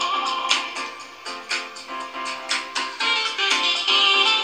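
An Advance CLS-102 gaming speaker plays music with clear rhythmic beats and bright tones, loud and close, with no talking.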